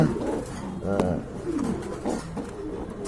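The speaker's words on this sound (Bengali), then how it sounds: "আমি দেখছিলাম যে চলে আসছে কবুতরটা" A pigeon in a loft gives a few close, low rolling coos, with talk faintly in the background.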